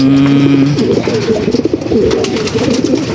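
Pigeons cooing close by, a soft low repeated coo that rolls and warbles over several seconds, with faint background noise.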